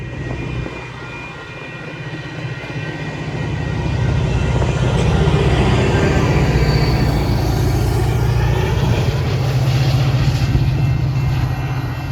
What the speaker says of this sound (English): This is the train I was intending to catch.